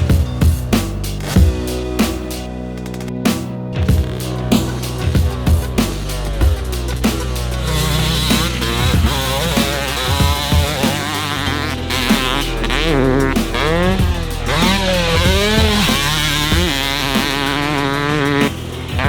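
A Yamaha two-stroke dirt bike engine buzzes loud and close, with rapid ringing revs that rise and fall repeatedly, then settles into a sustained wavering high-pitched drone, with no talking.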